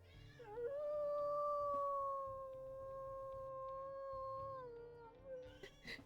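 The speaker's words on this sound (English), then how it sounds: "Let's also listen to her howls here." A wolf in the game WolfQuest gives a single long, steady howl that rises, holds for several seconds and then fades, with faint noise around it.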